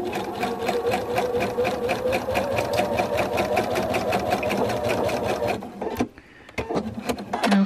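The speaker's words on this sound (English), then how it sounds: "we're going to turn and then we're going to carry on sewing." A sewing machine runs a straight stitch on Greenstyle Tempo stretch tights, close and steady with fast rhythmic needle clatter, then halts and makes a few brief clicks as the fabric is pivoted.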